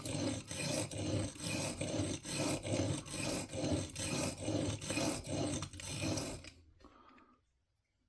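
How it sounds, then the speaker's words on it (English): A broadhead blade is drawn over a finer sharpening stone in steady, even rasping strokes, roughly one every half second, close and loud for about six seconds before it stops into quiet. "Now we're taking a finer stone and we are refining those scratches and making them finer and finer as we go up in stones"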